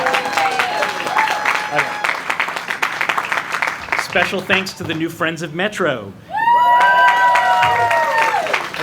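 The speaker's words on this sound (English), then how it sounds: "You can clap for them." Applause and cheering from a crowd at an outdoor press conference for a community cinema center, with a speaker talking over it and high-pitched shouts and whoops rising toward the end.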